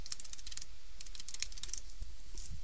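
Typing ActionScript 3 code in Flash CS3 on a computer keyboard, a close, rapid run of crisp key clicks with no talking.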